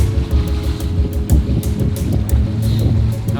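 A boat engine idling at low throttle while holding position among waves near shore, a steady low mechanical hum under splashing water and wind, fairly loud and close.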